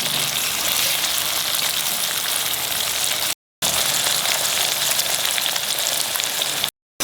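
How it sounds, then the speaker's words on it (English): Onions and chopped tomatoes frying in a pan, a loud, dense, continuous close sizzle with two brief cuts to silence. "Put in the chopped 2 small tomatoes I have put and fry this till it becomes soft."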